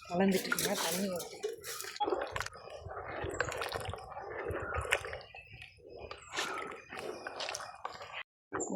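Water poured onto basmati rice in a cooking pot while making ghee rice, with irregular splashing and liquid sloshing in short bursts, heard under people talking.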